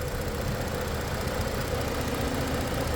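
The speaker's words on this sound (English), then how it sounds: "You hear a little bit of a tick there." A 2015 Ford Taurus engine idles steadily up close, a continuous low rumble with a faint, slight tick running through it; no talking.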